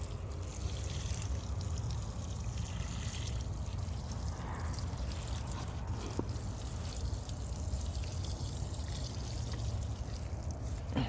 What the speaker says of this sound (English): you can water the entire vine